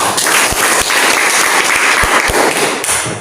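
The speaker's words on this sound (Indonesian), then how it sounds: "Ya, tepuk tangan dulu." Schoolchildren applaud in a classroom at the start of a lesson, a loud, steady patter of many hands clapping together for about three seconds, with occasional heavier thumps mixed in.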